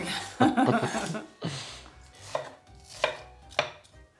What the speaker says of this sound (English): at the moment I'm chopping a couple of small red onions